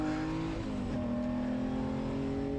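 An Austin Healey 3000 race car engine pulls hard out of a hairpin on track, a loud, steady in-car drone whose pitch climbs gradually as the throttle is held open, with no talking.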